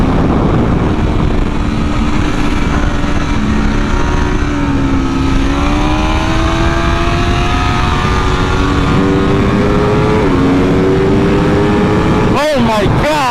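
Aprilia RSV4 Factory 1100 superbike, a 2022 model, screams at full throttle on a racetrack, its engine pitch climbing steadily with upshift dips before a sharp burst of rapid revs at the end, close and loud with wind roar.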